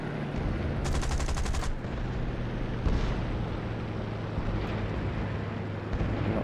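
Aircraft guns fire in one short, rapid burst over the steady drone of a plane engine during a Battle of Britain air combat scenario in War Thunder, with the engine hum continuing alone afterward.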